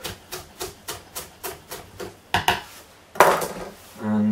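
A knife roughly chops fresh flat leaf parsley on a board, making about ten crisp, close thuds in a quick, even rhythm with a brief scrape near the end; no voices.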